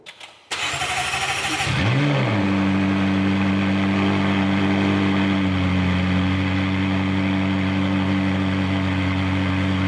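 A McLaren 688 MSO HS supercar engine cranks and fires up, revving once before settling into a loud, steady, deep idle that fills the rest of the recording.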